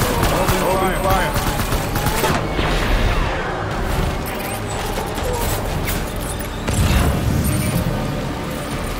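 Dense, loud gunfire fills a Death Stranding video game battle, with overlapping shots, booms and crashes in a continuous barrage while voices shout beneath the din.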